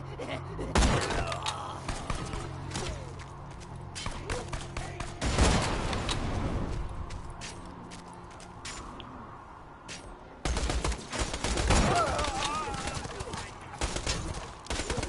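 Gunfire in the video game Borderlands 2, scattered loud shots and bursts with impacts amid game ambience, heaviest near the start, middle and final third.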